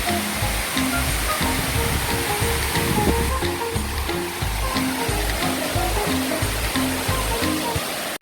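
A tall waterfall roars in a steady, loud, unbroken wash of rushing water close by, with no talking over it.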